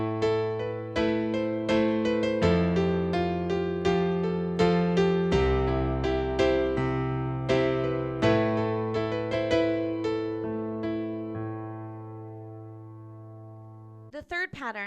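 A piano plays with both hands, the left hand repeating a half note then two quarter notes under a right-hand melody, steady and close, the phrase fading out at the end.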